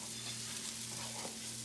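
Rice for a mushroom and pea risotto stirred in a pan with butter and oil, frying with a steady, close sizzle and soft scraping throughout, with no voices.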